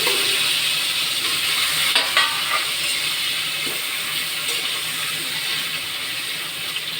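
Fish marinated in salt and turmeric sizzles in hot oil, a steady, dense hiss of frying that holds evenly throughout with a few faint crackles and no voices.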